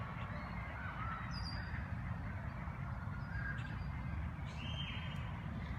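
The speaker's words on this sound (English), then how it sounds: "They're called mallard ducks." Faint calls from mallard ducks on a school nature-preserve pond, a few scattered honking quacks far off above a steady low background rumble, with no one talking.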